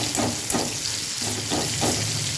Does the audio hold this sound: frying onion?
yes